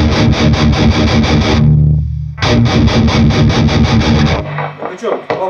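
A distorted electric guitar in drop tuning chugs a heavy palm-muted riff, loud and close, with fast repeated stabs, a short pause, then the pattern resumes and rings out at the end.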